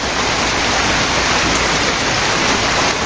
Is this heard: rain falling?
yes